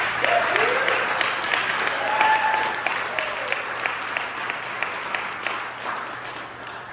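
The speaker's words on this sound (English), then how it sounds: "Can I get a quick round of applause for Denise and Jerry?" Steady applause from a gathered audience at a wedding celebration, a dense patter of many hands clapping for several seconds at moderate distance.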